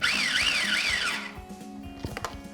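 A food processor whizzes parsley for tartare sauce in short pulses, its motor whining and wavering before cutting out, leaving faint clatter and knocks afterward.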